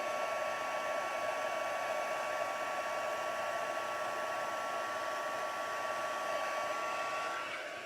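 Heat embossing tool blowing hot air steadily over embossing powder on a poinsettia Christmas card, a continuous close whirring hiss that runs unbroken almost to the end, with no talk.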